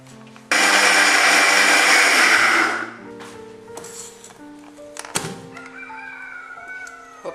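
A kitchen mixer grinder coarsely crushes green chillies for coconut chutney in one loud, whirring burst of about two seconds, then cuts off, leaving quiet clinks and handling sounds.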